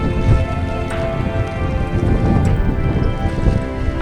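Steady rain falling at the Golden Bridge in Ba Na Hills during a typhoon warning, a dense even hiss of drops pattering on surfaces, fairly loud and constant, with no voices.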